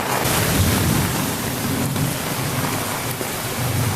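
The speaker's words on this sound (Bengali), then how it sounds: "প্রচুর বৃষ্টি" Heavy rain pours down steadily, a dense loud hiss of drops drumming on surfaces with a low rumbling undertone.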